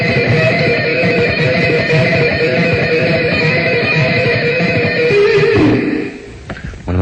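A fast electric guitar lick played with hammer-ons and pull-offs, giving a dense, continuous run of distorted notes that stays loud before breaking off near the end.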